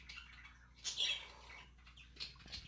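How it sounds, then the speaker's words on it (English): Birds outside on a morning chirp in short, high bursts, a louder cluster near the start and fainter calls later, heard indoors at moderate distance with no talk. "I'm so sorry about the birds. They are extra loud this morning."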